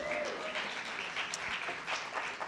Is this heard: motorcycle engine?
no